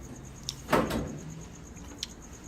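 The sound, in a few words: door sliding onto Kenmore Elite dryer body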